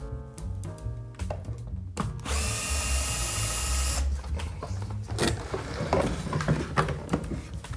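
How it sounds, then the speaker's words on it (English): A power driver backs screws out of a Fender guitar amp's back panel, with a sustained high whirring burst in the middle flanked by shorter clicks and mechanical rattles, close and fairly loud, no talking. "take the four screws off the back panel and then the four nuts connected by these two chassis straps"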